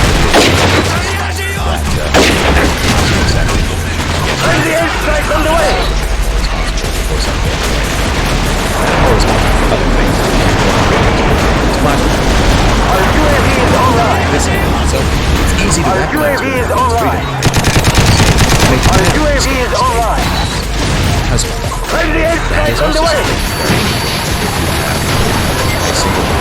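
Dense video-game warfare sound: rapid machine-gun bursts and booming airstrike explosions roll continuously with helicopter-like drone underneath, loud and busy throughout, with voices talking over the battle.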